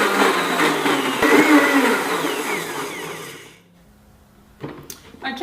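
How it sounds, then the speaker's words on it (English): A Blendtec blender runs on its smoothie setting, blending a green smoothie with a loud, steady whirring roar that cuts off abruptly after about three and a half seconds, leaving near silence broken by a few faint clicks. "I'm just going to select smoothie on my Blend Tech blender,"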